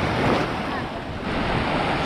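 Sea waves on a beach at Anapa on the Black Sea, a continuous close roar of surf with wind buffeting the microphone throughout.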